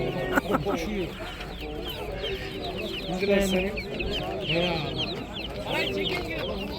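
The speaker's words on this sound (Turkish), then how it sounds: "Tavuk horozlar, tavuklar." Hens and roosters cluck and squawk continuously from close by, with a rooster call mixed in, while people talk over the flock.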